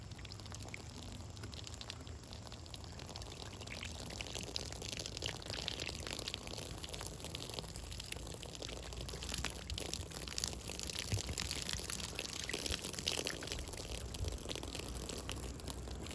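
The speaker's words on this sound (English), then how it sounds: "Let's get this BIC good and wet." Water poured steadily over an empty BIC lighter, a continuous soft splashing trickle that runs for the whole stretch at low, even loudness with no talking.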